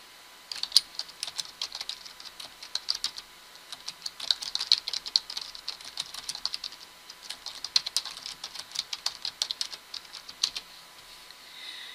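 Fingers typing on a computer keyboard, a steady run of quick, close key clicks in irregular bursts with brief pauses, and no talking.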